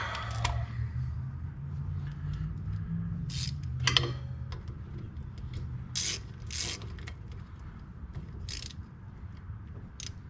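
A ratchet wrench clicks intermittently while working on the wheel bearing of a 2011 Chevy Cruze, with short metallic ratcheting bursts and clinks over a low background hum in a garage.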